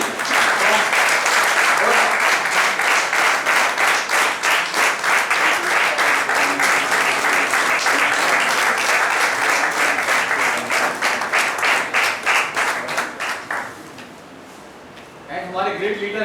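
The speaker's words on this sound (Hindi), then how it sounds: "उसके लिए जोरदार तालियों के साथ स्वागत किया जाए" Loud, sustained applause from a crowd welcoming a guest at a Hindi-language event, steady clapping for about thirteen seconds before it fades out near the end.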